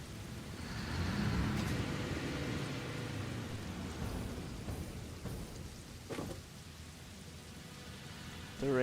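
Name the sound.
rain in Satisfactory video game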